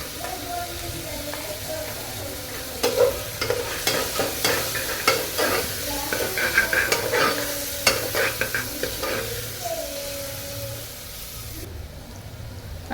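Garlic paste and onion fry in a pan for a kala masala mutton rassa, with a spatula scraping and stirring repeatedly through a constant sizzle.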